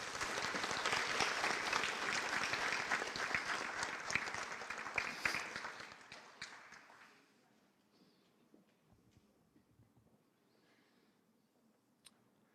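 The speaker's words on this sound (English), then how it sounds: "Let's give her a warm round of applause" Warm applause at an alumni awards ceremony for a woman receiving two community awards, loud sustained clapping for about six seconds before fading to a quiet room with a few scattered claps.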